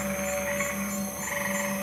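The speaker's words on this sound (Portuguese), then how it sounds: "um gemido de rã" A frog croaking at night in a marsh, a steady pulsing call repeating several times in under two seconds over a constant background hum of other night sounds.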